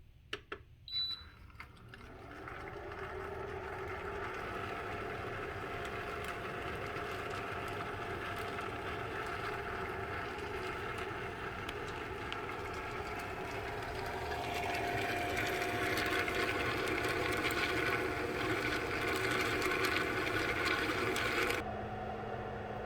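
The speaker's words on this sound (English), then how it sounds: "Set it on the machine and then I hit latte." Keurig K-Cafe coffee machine running its latte setting for hot cocoa with Lucky Charms marshmallows, a steady mechanical whir and hum that starts after a few clicks, grows slightly louder partway through and cuts off near the end.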